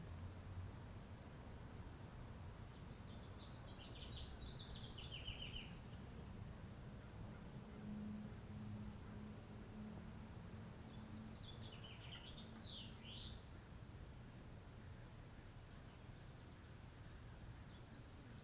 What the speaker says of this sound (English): You hear those birds? The birds are singing because they're in joy.